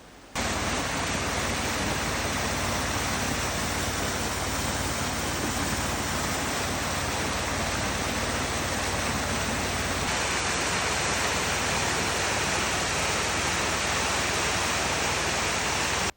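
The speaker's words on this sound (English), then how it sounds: "use this really old 70-year-old diesel pump here to pump down water through this wee nozzle and blast the cliff to bits" A roughly 70-year-old diesel pump driving water through a small nozzle to blast a cliff apart at a Yukon gold mine, producing a loud, continuous close roar of spraying water that holds steady throughout.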